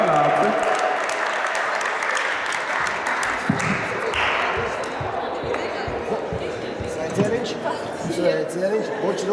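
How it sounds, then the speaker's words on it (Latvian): Crowd applause at a basketball tournament award ceremony, sustained clapping from an audience in a gym, with voices talking over it and a few sharp knocks and bounces. "Aplausus lūdzu."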